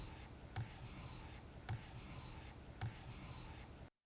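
A chisel bevel being honed on an 8000 grit sharpening stone: smooth back-and-forth rubbing strokes in a steady rhythm, close and fairly quiet, ending abruptly, with no talking.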